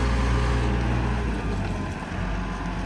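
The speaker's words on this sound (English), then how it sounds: "The engine sounds good." A used wheel loader's diesel engine idles steadily with a low, continuous rumble, close and alone, with no voices over it.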